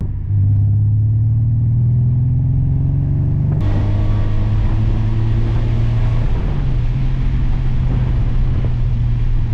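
A Honda engine with VTEC engaged all the time revs hard, a loud close drone climbing in pitch through a pull, cutting sharply, then rising again in a second sustained pull, with no talking.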